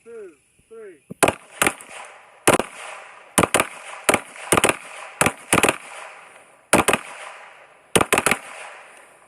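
Sharp, loud gunshots crack out irregularly at an outdoor shooting range, about a dozen single and paired reports over several seconds, with a brief voice heard at the start.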